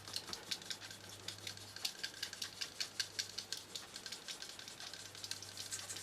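The smooth white side of a sanding stick polishes the plastic of a 1/48 Airfix Messerschmitt Bf 109E model, making a soft, quick rhythmic scratchy rubbing in close strokes, with a steady low hum underneath.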